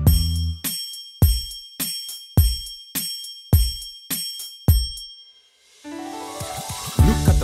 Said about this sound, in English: listen, you can hear the bell chime. Hear it chime up to 9.